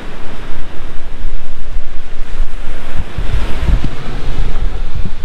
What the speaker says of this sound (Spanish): Y es, el mar es divino,